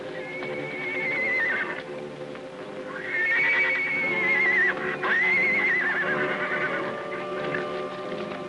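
Horses whinny in several long, shrill calls over a busy background of hooves and movement, loud and close.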